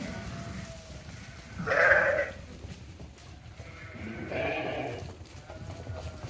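Ewes and their lambs bleat at a Moroccan livestock market, with two clear, fairly loud calls about two seconds apart, then quieter crowd noise underneath.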